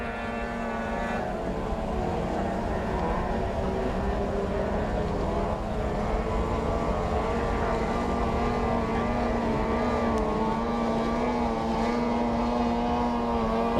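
Racing powerboats at the Sibu Powerboat Race 2023 drone past in a continuous, loud outboard-engine roar, steady pitch with slight wavering, no talk over it.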